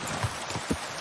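Steady rain falls across a medieval Bohemian landscape in Kingdom Come Deliverance 2, a soft continuous hiss with a couple of brief low thumps.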